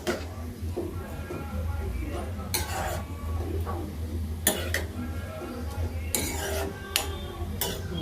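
Semiya (vermicelli) upma is stirred in a pan with a spoon, soft scraping over a low steady hum, broken by a few sharp clinks of metal on the pan.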